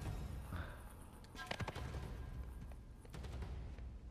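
Gunshots in the video game Uncharted 4, a few quiet, distant pops and a short burst scattered under a low background of game ambience.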